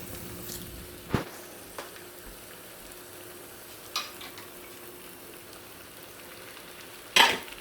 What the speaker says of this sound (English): I'm gonna go ahead and add the spinach